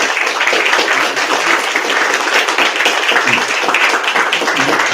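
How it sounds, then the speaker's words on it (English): Town council meeting attendees applaud an honored police officer, loud, dense clapping from a room full of people sustained evenly throughout. "if you could just give me a round of applause with him"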